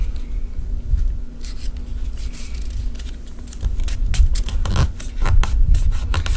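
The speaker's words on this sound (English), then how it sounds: "And then fold it forward." Paper being folded and creased by hand for a mini folio, close rustling and rubbing with a few crisp crinkles and taps over a low, rumbly background, no speech.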